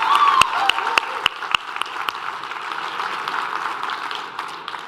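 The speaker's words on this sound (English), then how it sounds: "Can we please give one more round of applause to all of our local President's Cup winners?" Audience at a business conference applauds award winners, opening with a few sharp close claps before settling into a steady, moderately loud ripple of clapping that slowly thins.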